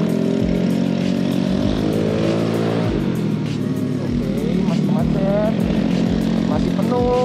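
A Vespa Sprint scooter fitted with an Akrapovic exhaust accelerates, its engine droning steadily and rising in pitch through repeated gear pulls, close and loud throughout.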